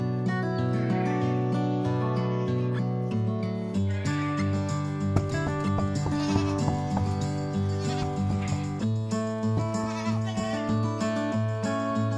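Goats from a goat breeding setup bleat in long, wavering, nasal calls that overlap one another, loud and close and continuing without pause.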